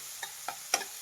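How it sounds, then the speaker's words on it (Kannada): Onions fry in a pan for a Kannada egg and lima bean sambar, with three soft stirring scrapes over a faint, quiet sizzle. "ನೋಡಿ, ಸಾಕು. ಇಷ್ಟು ಫ್ರೈ ಆಗಿರೋದು ಈರುಳ್ಳಿ."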